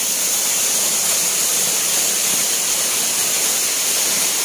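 Fikong Falls in Barangay Dalyaw, Maasim, Sarangani Province: a loud, steady roar of falling water, continuous and close, with no voices.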